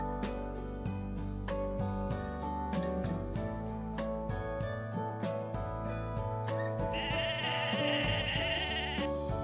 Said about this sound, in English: Oh, they have sheep back here.